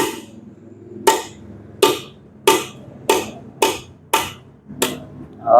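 Steel hammer blows drive out a valve guide from a 4JK1/4JJ1 diesel engine head on an Isuzu D-Max, seven sharp metallic strikes at a steady, slightly quickening rhythm, close and loud, with no talking.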